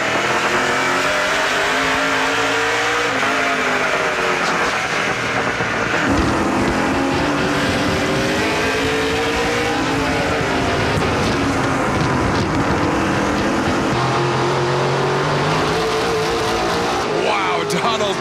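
Stock cars racing at Autodrome Chaudière in a 2019 NASCAR Pinty's Series race, engines roaring and revving steadily from an onboard view throughout, with a commentator talking over the continuous loud drone.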